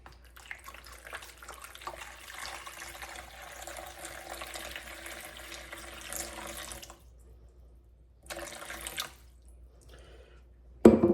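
Water pours steadily into a mixing bowl for several seconds, stops briefly, then pours again in a short burst, a close splashing stream with no talking, while sourdough is being prepared.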